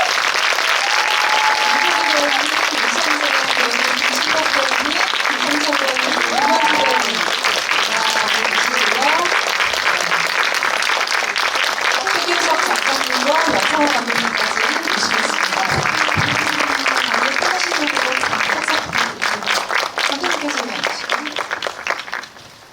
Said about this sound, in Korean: 박수 크게 한번 부탁드릴게요.